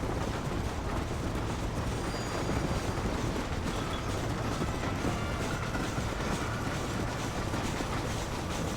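Train rolling along rails in a Western-era video game, a steady low rumble and mechanical rattle of wagons with faint clicking, continuous and fairly quiet throughout.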